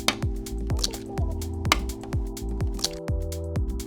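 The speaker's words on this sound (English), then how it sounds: "You mix cottage cheese, then you crack 2 eggs." Cottage cheese and cracked eggs are mixed in a bowl for a sweet treat, giving repeated wet squishing strokes in a steady rhythm, close up with no voices.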